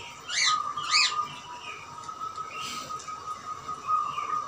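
A tame perkutut, or zebra dove, kept perched on a hand, gives a few short, high, trilling coos in bursts, fairly close, over a faint steady background hum.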